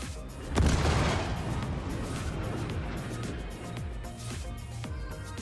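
A Super Hornet fighter launches two size 3 missiles in the Star Citizen space game, a sharp booming launch followed by rushing, crackling thrust and scattered lighter thuds, fairly quiet overall.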